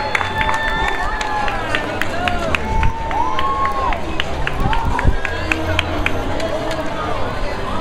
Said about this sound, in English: It's a very exciting moment to see the crowd.